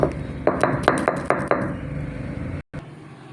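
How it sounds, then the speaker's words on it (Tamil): Cumin, fennel, pepper, ginger and garlic are worked on a stone ammi grinding slab, giving a close series of sharp knocking strikes followed by a rough scraping, grinding rumble and a brief cut-off. "இதெல்லாம் வச்சு இப்போ அம்மியில் அரைக்க போகிறோம்."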